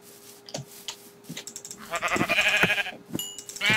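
Sheep in the video game Minecraft give a wavering bleat in the middle, set among soft clicks and short taps, with another brief tonal cry near the end.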